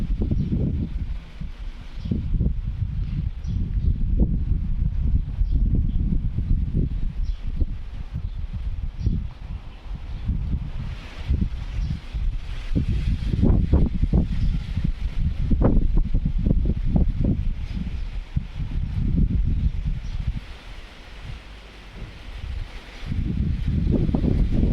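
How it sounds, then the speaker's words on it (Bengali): Gusty wind sweeps through a lemon tree beside a yard soaked by several days of rain, with rustling leaves and heavy buffeting that swells and eases in waves close to the microphone. "দেখেন বাতাস, লেবু গাছটা।"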